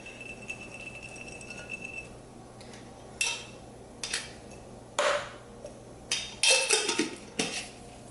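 Dried cranberries and granola stirred in a bowl: a few separate clinks and scrapes of a utensil against the bowl, close and moderately loud, clustering into a quick burst of rattling near the end.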